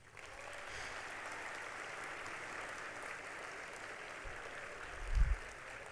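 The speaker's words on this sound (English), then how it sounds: "I want to ask for a very big round of applause for all the graduates sitting here today." A large crowd applauds graduates at a graduation ceremony, heard at a distance as a soft, steady wash of clapping with a brief low thump near the end.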